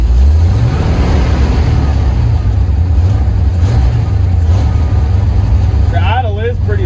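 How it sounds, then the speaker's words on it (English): A car engine idling at a low speed, a loud, steady, close rumble that holds even throughout, with someone talking briefly near the end. "the idle is pretty low. I think it's at like 800."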